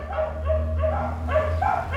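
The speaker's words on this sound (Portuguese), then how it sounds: "que cachorrada aí latindo atrapalhando meu vídeo" Several dogs bark in a quick series of short, repeated woofs at moderate distance, steady and unbroken over a low background hum.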